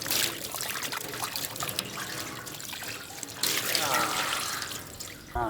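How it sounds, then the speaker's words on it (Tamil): Liquid pours and trickles steadily during the preparation of black pomfret fish for cooking in banana leaf. The splashing water rises and falls, growing louder toward the end. "நல்லா ஊற்றுமுக்கா."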